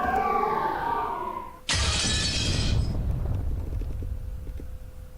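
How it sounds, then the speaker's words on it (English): Glass window breaking, a sound effect from the visual novel game Umineko, erupts as one sudden loud crash midway through after soft tonal music, then rings and fades out over a couple of seconds. "an incredible sound like that of glass window breaking reverberated through the hall"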